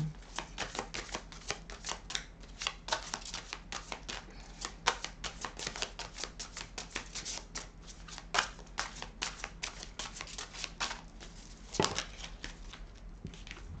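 Oracle cards being shuffled and drawn: a continuous, fairly quiet patter of rapid papery flicks and riffles runs throughout, with occasional sharper snaps as cards are handled and laid down.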